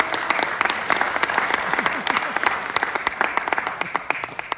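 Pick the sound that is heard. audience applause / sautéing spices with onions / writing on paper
audience applause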